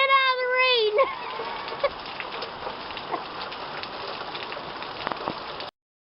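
Rain falls steadily during a small flood, a close, constant hiss of drops on surfaces, opening with a brief high cry before the downpour carries on alone at moderate loudness.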